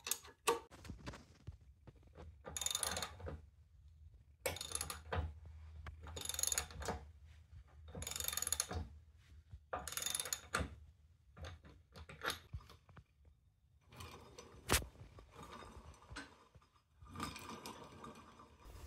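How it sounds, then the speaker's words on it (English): Screws being tightened with a ratcheting tool while a clutch is fitted to a go-kart, repeated bursts of quick clicking ratchet strokes separated by short pauses, close and moderately loud, no speech. "Now I'll tighten down these screws and get all that situated."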